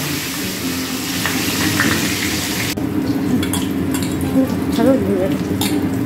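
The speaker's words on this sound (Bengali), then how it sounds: "এবার এই তেলে গোটা গরম মশলা আর তেজপাতা ফোড়ন দেওয়া হলো।" Whole garam masala and bay leaves crackle and sizzle in hot oil for a Bengali prawn and elephant-foot-yam curry, a steady close sizzle with a sudden drop partway through and light utensil clinks.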